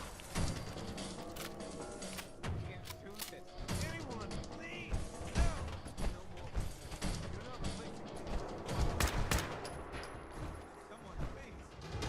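Dense gunfire and crashing impacts from combat in the video game Fallout 4, steady and busy throughout with sharp bursts, mixed under shouted voices and game dialogue.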